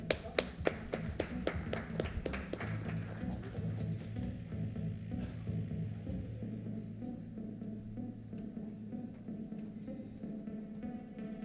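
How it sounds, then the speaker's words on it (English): An audience at a health insurance panel discussion applauds. A few sharp early claps swell into steady, pattering clapping that carries on at a moderate distance for several seconds. "A huge round of applause for Mr."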